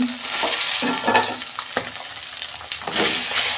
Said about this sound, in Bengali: এই যে মাছটা আমার ভাজা হয়ে গেছে